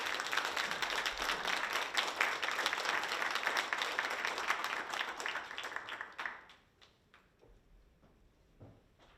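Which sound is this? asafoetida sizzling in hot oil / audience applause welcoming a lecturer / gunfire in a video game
audience applause welcoming a lecturer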